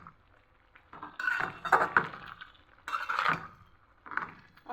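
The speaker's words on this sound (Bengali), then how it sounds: "ডাঁটা শাকটা আমি নেড়ে দিচ্ছি।" Stem amaranth greens being stirred in a frying pan, heard as a few separate bursts of utensil scraping and clatter against the metal with quiet gaps between them, close and moderately loud, with no talking.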